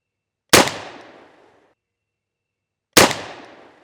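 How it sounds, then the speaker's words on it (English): A newly built percussion cap kit pistol, an InvestArm Plains Pistol, fires outdoors: two sharp, loud reports a few seconds apart, each decaying quickly into a short echo and then silence. "we'll take our first shot with this pistol"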